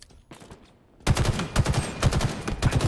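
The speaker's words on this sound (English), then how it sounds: "Oh fuck, I'm getting shot from both sides." Rapid gunfire in a Halo Infinite ranked match erupts suddenly after a quieter stretch, loud, dense bursts of shots hammering continuously near the listener with no talk over them.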